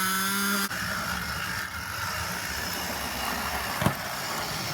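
A model train motor and coupler squealing on a layout: a steady high-pitched whine and mechanical rattle, with one sharp click partway through.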